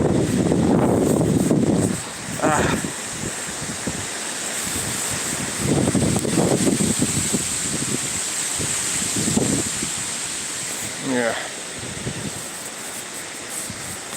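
Strong wind buffets a microphone outdoors in stormy Scotland, a steady roaring gusty rush across the whole stretch, with brief voices breaking through now and then.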